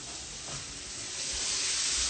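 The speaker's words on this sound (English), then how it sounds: "while we're letting those steaks sear" Steaks searing in a hot pan give off a steady, broadband sizzle and hiss that holds even and grows slightly louder toward the end, close and continuous with no talking.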